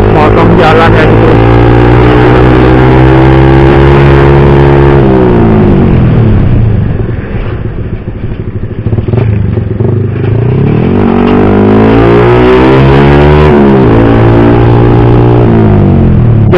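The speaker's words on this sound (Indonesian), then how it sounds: "kita langsung bahas aja untuk masalah suara knalpotnya ya teman-teman" A motorcycle exhaust (knalpot) rumbles loud and steady during a ride, its engine note dipping and then rising again as the throttle eases off and opens up, with wind buffeting throughout.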